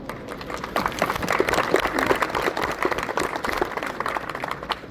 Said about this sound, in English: Why do I feel like the men are applauding harder?